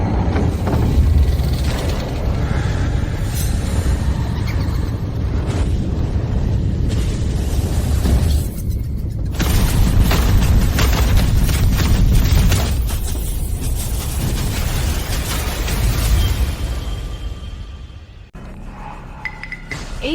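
A dramatic explosion effect erupts in a fantasy drama scene, a dense roaring blast with crackling debris and clinking fragments that swells, dips and rumbles on loudly before cutting off near the end.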